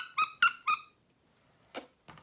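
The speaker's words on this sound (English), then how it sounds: "I'm going to swap the bow for this cute cat plushie that squeaks." A squeaky cat plush toy squeaks three times in quick succession, close and bright, then a pause before two fainter squeezes, with no voices.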